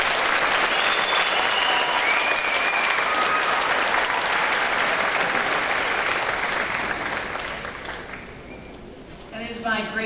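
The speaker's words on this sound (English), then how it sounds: "Please give her a round of applause." A convocation audience at an agricultural college graduation applauds an Equine Science diploma graduate. The clapping is loud and sustained, fades toward the end, and speech begins over the last moments.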